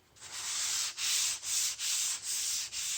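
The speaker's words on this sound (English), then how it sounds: "I'll take my sanding pad." A sanding pad rubbed over stained wood in short back-and-forth strokes, about six steady hissing passes with brief gaps between them, close and fairly quiet with no talk.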